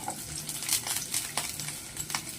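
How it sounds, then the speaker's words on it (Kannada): Onion and green chili frying in hot oil, a steady soft sizzle with a few light crackles and utensil clinks, fairly quiet and close with no talking. "ಎಲ್ಲವನ್ನು ಚೆನ್ನಾಗಿ ಫ್ರೈ ಮಾಡ್ಕೊಳ್ಳೋಣ."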